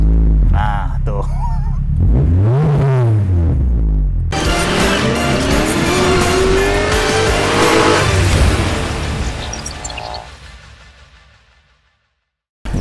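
A 2000 Mitsubishi FTO sports car, heard close up as its engine revs and climbs in pitch, drops back, then rises again in a long acceleration before fading away, with a voice over the first moments.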